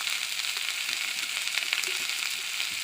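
Fish sizzling steadily in hot oil in a pan, seasoned with salt and chili powder, a dense continuous crackle with small pops throughout and no talking.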